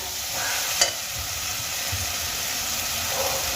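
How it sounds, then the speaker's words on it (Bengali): Boiled, mashed potatoes frying in a pan of spiced masala give off a steady, close sizzle with scraping stir sounds and one sharp clink near the start, with no talking. "এবার আমি এর মধ্যে দিয়ে দেবো চারটে সেদ্ধ করে নেওয়া আলু"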